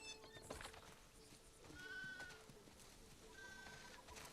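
Faint, distant bleats from sheep in The Last of Us Part II, a couple of thin wavering calls over a quiet ambient bed.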